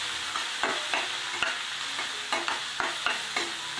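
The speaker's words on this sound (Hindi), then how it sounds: "इसे अच्छी तरह से मिक्स कर लेते हैं।" Turmeric, coriander, garam masala and cumin powders being stirred into paneer bhurji in a pan: rhythmic spoon scrapes repeat over a continuous soft sizzle, with no talking.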